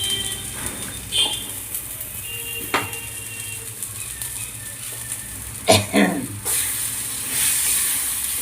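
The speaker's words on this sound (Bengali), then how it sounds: "মশলাটা আমার কষানো হয়ে গিয়েছে" Spice paste for a Bombay duck (loitta fish) dish fries in a pan with a continuous hissing sizzle, broken by occasional scraping clatters as a spoon stirs it close up.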